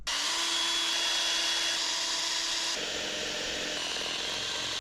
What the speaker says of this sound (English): put the exact size drill down first to put a centre dot, drill through with a pilot